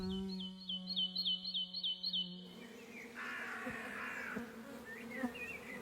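Honeybees buzzing and whining nearby at a forest-edge apiary, a bright wavering hum at first, then a softer, busier drone with a few faint chirps.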